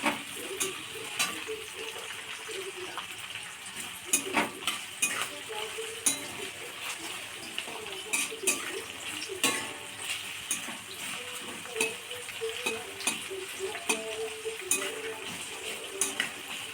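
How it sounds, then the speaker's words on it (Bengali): Chopped green chillies frying in hot oil in a wok for veg Maggi, a steady low sizzle with occasional clinks and scrapes of a utensil against the pan, close and quiet. "তেলটা গরম হওয়ার পাশাপাশি লঙ্কা কুচিটাও দিয়ে দিলাম। খুব ভালোভাবে এটাকে ফ্রাই করে নেব।"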